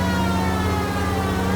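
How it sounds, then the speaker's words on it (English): A police siren in the L.A. Noire video game drones loud and continuous, a steady wailing tone that fills the whole short stretch with no pauses. "They should make police sirens really loud so you hear them through the whole city."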